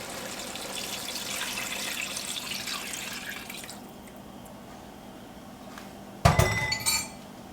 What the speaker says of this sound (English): We are just going to add in our beef broth.